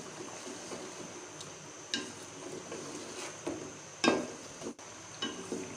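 Tomatoes, spices and chicken fry quietly in a pan while a spoon stirs them, soft sizzling under scattered scrapes and light knocks against the cookware.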